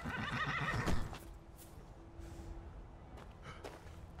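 Horse in the VR version of the game Skyrim lets out a loud whinny at the start, then quieter hoof steps and snorting follow faintly, with no talking.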